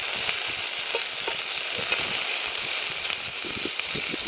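Prawns with garlic cook in a cast iron pan over a campfire, a close, steady sizzle with scattered small crackles running unbroken throughout.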